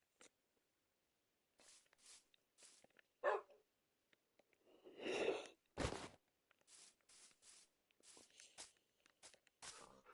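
A dog in Minecraft gives several short, sharp barks spaced irregularly through otherwise near-silent gameplay, with soft footstep-like crunches between them.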